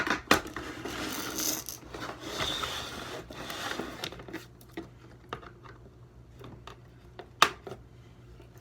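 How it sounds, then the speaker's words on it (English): Scissors snipping through rope ties on toy packaging, with close, sharp cuts and rustling plastic and cardboard, followed by a few sparse clicks and a louder snap near the end. "Now we need to cut the ropes. Scissors."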